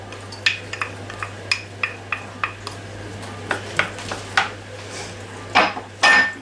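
Diced onions go into a pan of fat that has not fully melted, giving a run of light, evenly spaced clinks followed by louder scraping and clattering bursts close by near the end.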